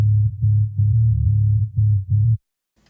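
A sub-only bass guitar channel plays deep, rounded low notes in a rhythmic pattern of short pulses, loud and isolated with no other instruments, stopping abruptly near the end.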